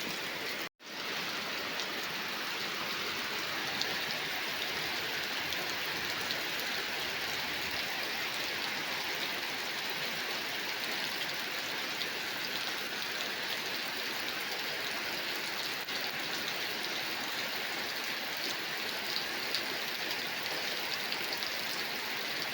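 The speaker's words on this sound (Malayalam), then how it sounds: "നല്ല മഴയാണ്" Heavy rain pours down steadily in a dense, unbroken hiss, with one brief dropout near the start.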